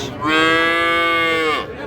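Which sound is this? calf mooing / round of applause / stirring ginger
calf mooing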